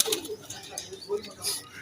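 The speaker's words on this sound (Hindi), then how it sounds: "ये हमारा सुंदरा कबूतर है" A pet pigeon makes soft coos and faint wing rustles up close, brief and quiet, with a voice talking around it.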